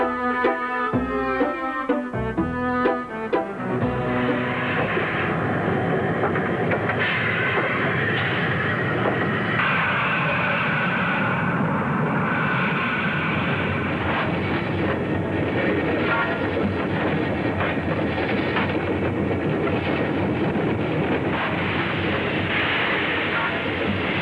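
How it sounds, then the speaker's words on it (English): A model train's continuous rumbling roar fills the scene, steady and fairly loud, with a brief burst of tonal clatter at the start, as it arrives on a PECO layout. "Train has arrived."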